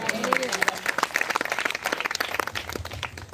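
Children clapping their hands in a church gathering, a dense run of sharp claps in irregular rhythm, loud and close, with voices talking alongside.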